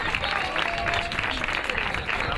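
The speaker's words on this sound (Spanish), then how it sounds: "Su fuerte aplauso a los mejores de la categoría." A crowd at the Andalusian junior and under-23 road cycling championship in Olvera claps loudly for the top riders of the category, a dense, sustained burst of applause.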